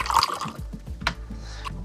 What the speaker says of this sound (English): So let's take this shot of the whiskey pouring into the glass.